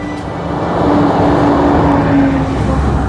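Heavy traffic of trucks and buses on a highway rolls past close by, a loud broad roar that swells through the middle and holds with a low engine drone.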